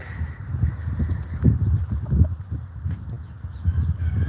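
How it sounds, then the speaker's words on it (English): Backyard hens give a run of low, irregular clucks and soft murmuring calls, close and moderately loud, continuing in uneven bursts with no talking over them. "That's a chicken."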